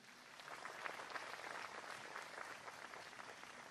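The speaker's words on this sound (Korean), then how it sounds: "여러분 큰 박수로 환영해 주시기 바랍니다" An audience at a formal commemorative ceremony gives steady, even applause to welcome Lee Seung-min, the first champion of the disability US Open; the clapping is distant and faint, with no talk over it.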